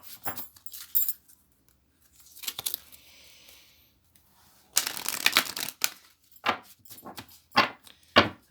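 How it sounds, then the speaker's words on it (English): Quick bursts of tarot cards being shuffled, riffling and tapping in short separate bouts, close up and fairly quiet, with no talking. "Just give it a bit of a shuffle for you quick."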